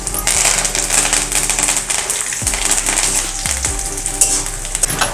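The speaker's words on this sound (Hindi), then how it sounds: "अभी मैं कड़ी पत्ता डाल रही हूँ इसमें।" Curry leaves hitting hot oil with peanuts for poha, a loud, close, continuous crackling sizzle with dense spattering pops and occasional clinks of a spoon against the pan.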